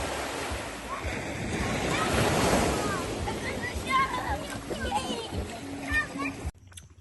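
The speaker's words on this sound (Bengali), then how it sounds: "বড় বড় ঢেউ আছে" Ocean waves on the Kenyan coast surge and wash in a broad swelling roar, building then easing, with people talking over the surf.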